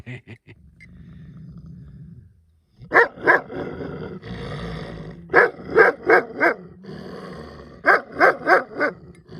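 Dogs growl low and steadily, then break into bursts of sharp, close barking in quick clusters of three to five, with short pauses between.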